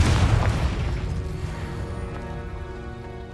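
A Confringo fire-blast spell explodes in Hogwarts Legacy, giving one heavy boom at the start that rumbles and fades over about three seconds.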